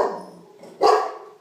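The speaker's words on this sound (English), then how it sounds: "My dog barking." A dog gives two sharp barks close by while a cat window seat is being built, the first fading out and the second coming about a second later, in an otherwise quiet room.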